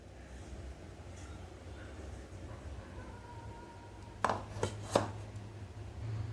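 A cake tin holding batter for an Oreo cake is tapped, producing three sharp knocks in quick succession over a quiet room hum.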